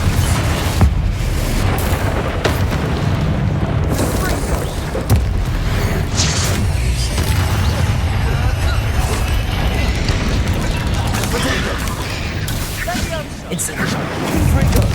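Spell explosions in the game Hogwarts Legacy, a dense run of loud booms, crashes and bursts over a constant rumble, with a voice speaking over the blasts throughout.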